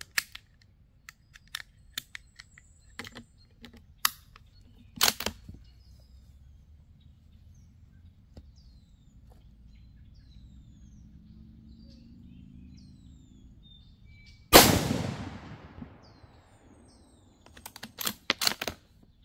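A Savage Axis II threaded heavy-barrel rifle in 6mm ARC fires one sharp, loud shot with a ringing decay outdoors, after a stretch of scattered light clicks and quiet ambience.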